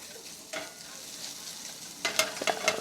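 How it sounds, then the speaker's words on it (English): Chicken sears in bacon grease in a hot pan, a close, steady sizzle and crackle that swells louder toward the end with sharp spattering pops. "It's sizzling now."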